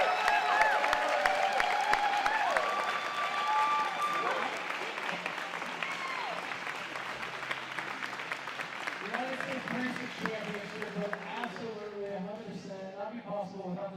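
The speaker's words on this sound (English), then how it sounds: "Can we give a huge round of applause? Stand up, let's hear it for our USBC competitors." An audience at the US Barista Championship gives a long, sustained round of applause for the competitors, steady and full throughout, with a voice speaking over it and cheering voices near the end.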